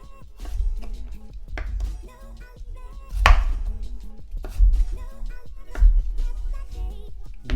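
Knife chopping through a potato on a cutting board, cut thick like steak fries for French fries, with steady irregular thuds and a few louder hits close by.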